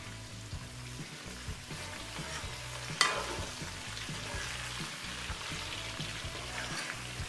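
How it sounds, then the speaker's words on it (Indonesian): Beef empal stirred slowly in a pan with palm sugar, a soft continuous sizzle under repeated low scraping strokes, with one sharper knock partway through. "Sekarang kita akan aduk pelan ya"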